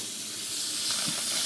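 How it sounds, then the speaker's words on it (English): A hot pan being quenched with oil while cooking Cajun blackened whitefish gives a steady, close hiss and sizzle that swells slightly near the end, with no talking. "I'm going to take the heat out of the pan by quenching it with oil."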